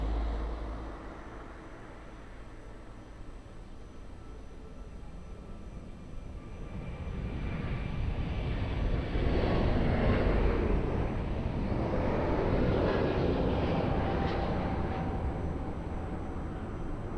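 An airplane takes off at Lisbon Airport, a faint, distant engine roar that slowly swells and then eases, no talk.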